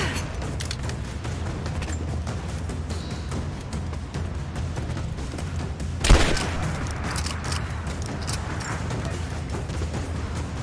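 Video game combat with a distant, muffled rumble of steady gunfire throughout and one sharp grenade blast partway through, the background din continuing after it.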